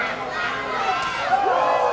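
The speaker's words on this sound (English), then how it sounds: "the crowd is asking for another one" A wrestling crowd at a PWE show roars and cheers for another one, a dense, continuous wash of many voices with shouts rising out of it, loud and close throughout with no pause.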